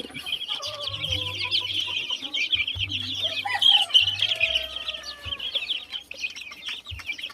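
Backyard chickens and a large brood of chicks in a farmyard, a constant chorus of high peeping from many chicks with hen clucks mixed in, close and busy throughout.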